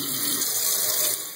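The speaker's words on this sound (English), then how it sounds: "add some water, just a little bit" Water runs from a tap into a container holding a few drops of liquid dish soap, a steady, close, continuous pour lasting just over a second with no talking.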